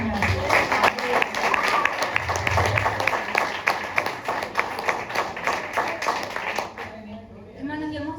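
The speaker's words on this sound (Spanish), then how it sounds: "Denle un aplauso al Señor." A crowd claps steadily and loudly for several seconds, the applause fading out toward the end as a voice begins speaking.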